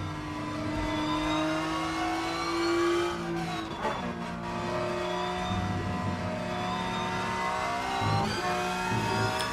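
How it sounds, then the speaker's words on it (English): A race car engine in sixth gear in the Rennsport racing game at the Nürburgring, heard as a loud, steady multi-tone drone with a few brief dips and recoveries in pitch as the revs shift. "from a video game aspect, sixth gear just sounds weird"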